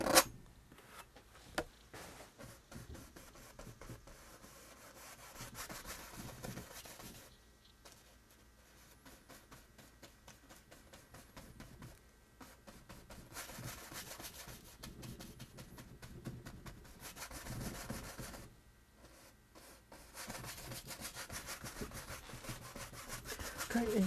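A used brush scrapes paint across a landscape painting of mountains, making faint, continuous rubbing and scratching strokes close up with brief pauses, and no talking.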